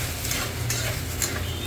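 Soaked sabudana (tapioca pearls) being stirred and sautéed in a pan for khichdi, a soft steady frying sizzle with occasional scraping stirs, close and continuous with no talking.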